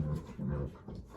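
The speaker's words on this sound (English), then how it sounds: "My dogs always want to play when I'm talking." Pet dogs whimpering and whining in short bursts indoors, eager to play, fairly close with soft panting between the cries.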